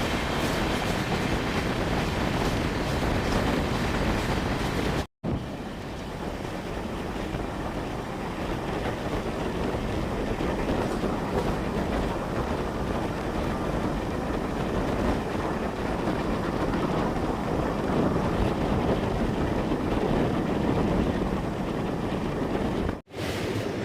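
A Chamundi Express with brand-new LHB coaches runs steadily, a continuous broadband rumble and rush close by with wind noise, unbroken for the whole stretch apart from two brief dropouts.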